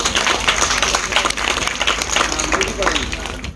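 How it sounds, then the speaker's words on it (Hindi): Applause from a crowd, a dense rattle of many hands clapping steadily throughout, mixed with murmuring voices. "ताली बजाइए सब लोग"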